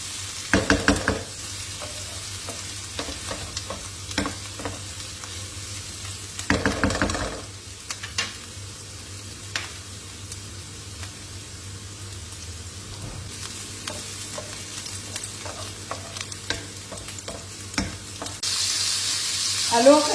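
An onion fries in a pan until golden, giving a quiet, steady sizzle under occasional stirring and utensil clinks, with a brief louder scrape partway through and running water near the end.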